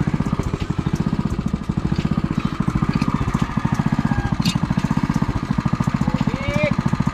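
Small engine running steadily at reduced throttle during work laying a household water pipe, a dense rapid chugging pulse close by and loud throughout, with a brief high squeak near the end.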